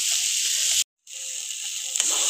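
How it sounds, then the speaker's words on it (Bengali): Potato and taro fry in a pan with a bright, even sizzle, interrupted by a brief silent gap, then continuing with soft scraping and a low hum beneath the crackle. "ভালো করে কষিয়ে নেব"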